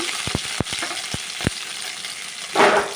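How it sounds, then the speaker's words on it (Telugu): Onions, green chillies, ginger and tomato fry in a pan with curry leaves, a quiet sizzle broken by several sharp spatula taps and a short louder scrape at the end. "అల్లం ముక్కలు అండ్ టమోటా వీటన్నిటి కూడా వేయించుకున్నాం"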